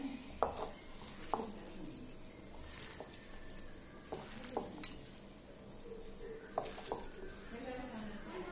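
A potato mixture being kneaded with cornflour for potato balls: quiet, sparse scrapes and taps of a spoon against a bowl, a few sharper knocks between soft squishy mixing sounds, close but faint.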